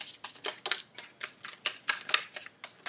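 Shuffling of a tarot deck, close and soft, with a steady series of crisp card riffles and taps repeating about every quarter second.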